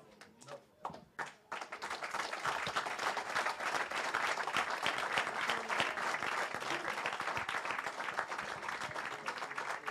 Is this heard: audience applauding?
yes